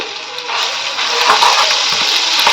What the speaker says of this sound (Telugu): వేసుకొని ఒక టూ మినిట్స్ ఫ్రై చేసుకోవాలి